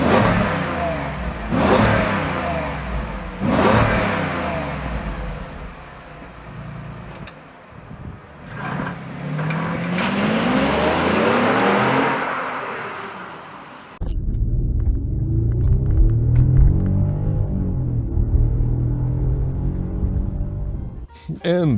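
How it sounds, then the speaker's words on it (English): A powerful car engine revs repeatedly, rising and falling in long surges with a deep rumble, then settles into a loud, steady idle. "I mean, just listen to the engine."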